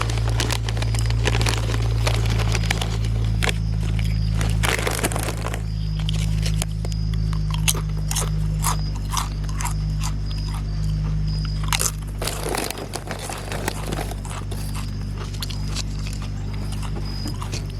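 Stranger Things Doritos Collisions chips, pizza and Cool Ranch flavours, crunched and chewed close to the mouth in steady bursts over a constant low hum, with no talking.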